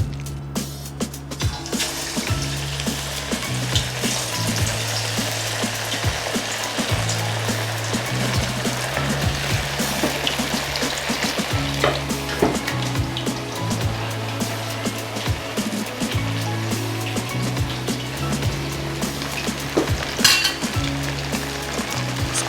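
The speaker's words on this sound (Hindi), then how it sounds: "और हमारा ऑयल बिल्कुल गर्म है। अब हम इसमें चिकन सबसे पहले डाल देंगे।" Turmeric-marinated chicken pieces frying in about a litre of hot oil, a steady, dense sizzle holding close and loud throughout with no talking.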